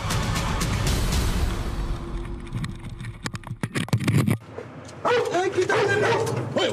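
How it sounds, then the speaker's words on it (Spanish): A dog barks and whimpers in short bursts over steady background noise, followed by a sharp thud and then people talking. "que le hemos instalado a Gabor nos muestra el motivo de sus ladridos"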